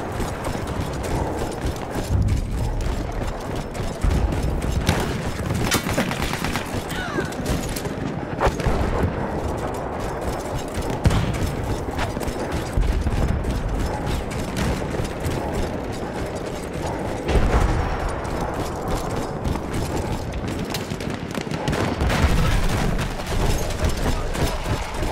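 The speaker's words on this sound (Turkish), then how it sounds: "Makinalı tüfek!" Machine gun fire rattles in the Battlefield 1 video game amid a dense, loud wash of battlefield noise, with rapid bursts and booms continuing throughout without a break.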